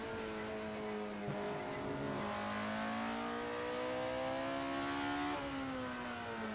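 A 1967 Alfa Romeo in the Assetto Corsa racing game revs hard with a clean, rising engine note that climbs through the gears, briefly drops at each shift, and then pulls up again. The sound is steady and close, with no talk over it.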